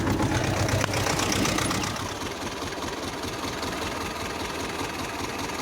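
A mini tractor engine chugging loudly nearby while plowing, then settling into a steadier, slightly quieter drone as it keeps working.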